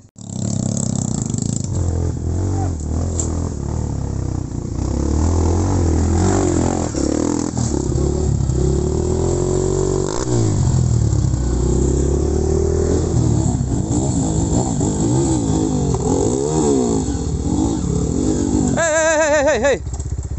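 An off-road trail motorcycle claws up a steep three-tier climb, its engine revving hard and continuously with clattering and scraping over rough ground, while voices shout now and then.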